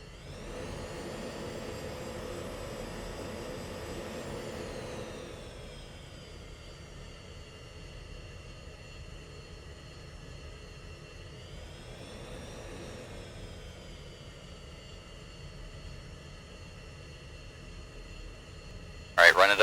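F-16 jet engines in the Falcon BMS flight simulator whine steadily as a flight taxis onto the runway at night, a loud sustained turbine drone with rising and falling pitch sweeps, ending in a brief sharp burst.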